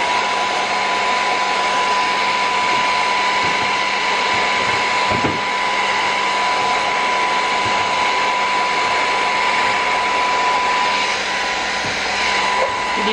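A heat gun on its second setting blows over a shrink-pack system, giving one loud, steady, unbroken roaring hiss with a constant whine that runs throughout at close range.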